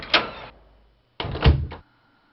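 A locked manor door in the video game Eternal Darkness gives a sharp thunk that decays, then after a pause a heavier rattling clunk, loud and close, with no talking.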